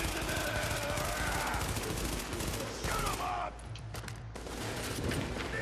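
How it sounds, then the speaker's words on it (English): Rapid automatic gunfire in Tom Clancy's The Division, dense overlapping bursts of shots that thin out briefly near the middle before the firing picks up again, loud and continuous. "Everybody focus your fire on these fat fuckers."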